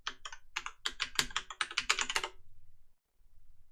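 Quick bursts of typing on a computer keyboard while a password is entered at a Debian Linux prompt, a rapid run of close, crisp key clicks for about two seconds, then near silence.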